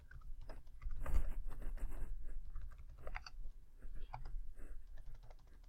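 Rapid typing on a computer keyboard, irregular bursts of close, crisp key clicks with short pauses between runs, fairly quiet and alone.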